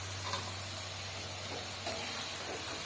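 Potatoes sizzle in hot oil in a pan, a steady close-up hiss and crackle with faint stirring clicks. No one speaks.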